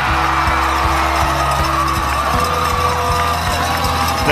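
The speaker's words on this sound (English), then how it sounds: "The crowd is pumped and ready to go" A loud, steady stadium crowd roars throughout a Class 5A Division II high school football quarterfinal at kickoff, with a dense, continuous din and faint sustained tones running underneath.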